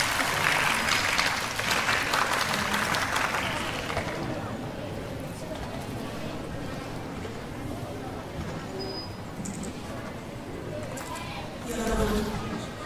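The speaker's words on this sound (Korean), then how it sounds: "여러분, 자신을 위해서 한번 박수 한번 더 힘껏 쳐보십시오." Audience at a Korean-language speech contest clapping loudly for about four seconds, the applause then fading into a quieter murmur of the crowd with some voices.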